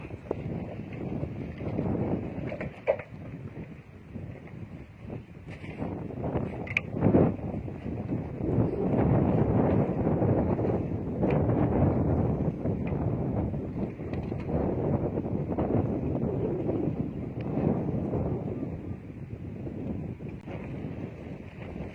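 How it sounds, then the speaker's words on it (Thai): Steady outdoor wind rushes and buffets against the microphone, a continuous broadband roar that swells around the middle and holds fairly loud to the end, with no speech over it. "แต่ว่ามีลม"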